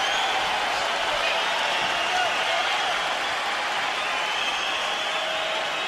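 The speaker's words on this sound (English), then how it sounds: "for the first time, the crowd stands and applauds the action" A boxing arena crowd stands and applauds near the close of round six in a heavyweight fight, a steady, dense wash of clapping and cheering that holds evenly throughout with no pauses.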